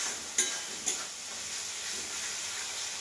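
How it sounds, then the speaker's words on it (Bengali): Spice masala for chicken bora curry sizzles in a pan, a steady soft frying hiss with two sharp clinks of a spoon early on, close and unaccompanied by talk. "এইভাবে আমি এখন কিছুক্ষণ ভাজবো।"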